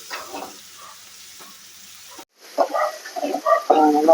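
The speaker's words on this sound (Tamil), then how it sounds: "தக்காளி போட்டு நல்லா கொஞ்சம் வதக்கலாம்" Tomatoes sauté in a pan while egg fried rice is being made, a low sizzle and stirring scrapes under a voice that talks intermittently, with a brief drop to near silence midway.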